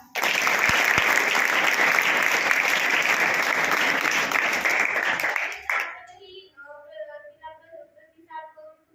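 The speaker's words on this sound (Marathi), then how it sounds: "तिच्यासाठी टाळ्या वाजवा" Applause from a group of schoolchildren, dense steady clapping for about six seconds that then stops abruptly, followed by a voice speaking.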